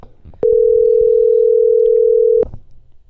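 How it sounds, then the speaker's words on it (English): A single long steady electronic phone tone heard during a call, one unbroken beep of about two seconds that starts and stops abruptly, loud against a quiet background. "You guys hear ringing?"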